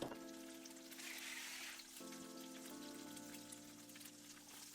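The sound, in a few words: egg frying in oil in a pan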